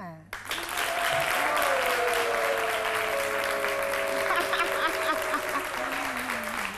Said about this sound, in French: Alors, applaudissements, on va recevoir Jean-Michel Honin.